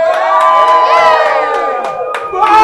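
A school assembly crowd cheers and shouts loudly and continuously, with children's voices whooping and yelling close together throughout.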